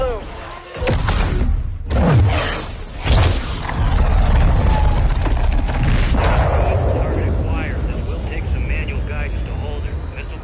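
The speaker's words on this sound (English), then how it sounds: "Missile is ready for immediate delivery. Stand by for launch." A missile launches with a heavy roar and several deep booming blasts, followed by a sustained rumbling jet-like wash, in a Call of Duty Modern Warfare 2 campaign mission, with a voice speaking over the action.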